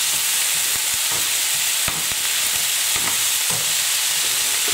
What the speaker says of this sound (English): Give it all a stir.